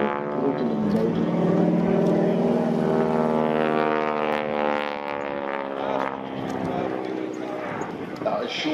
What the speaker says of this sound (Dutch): Hoor die 9 cilinder Pratt & Whitney motor, dat gaat brokkelen.